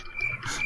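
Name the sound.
crickets chirping sound effect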